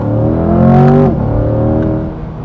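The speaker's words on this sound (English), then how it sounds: "It sounds fantastic when you rev it all the way out" A Chevrolet Corvette C8 Stingray's 6.2-litre V8 revs up loudly and close by, its pitch climbing for about a second before dropping back to a steady, lower drone.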